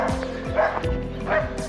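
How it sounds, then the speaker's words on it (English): Small yappy dog at a villa in Spain barking in quick sharp yips, several bursts over under two seconds, fairly close and loud, with faint outdoor background. "this villa has a right yappy dog. Every time I come past, he's off."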